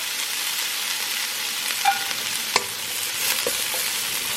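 Pansit bihon rice noodles are stir-fried in a pan with a continuous close sizzle, marked by a couple of distinct metallic clinks and scrapes from the spatula, and no one speaking.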